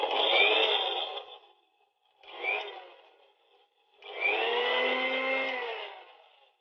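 A kitchen mixer grinder whirs loudly while grinding a capsicum paste for pickle, running in three bursts of a few seconds each with short silent pauses between them, close and alone.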